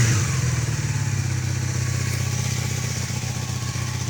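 Honda motorcycle engine running after a carburetor cleaning, a close, steady idle with a throbbing low drone and rapid mechanical clatter, holding constant without revving.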